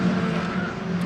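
A race car runs at speed on the Donington Park circuit, a loud, steady buzzing engine drone held close for about a second with no voices.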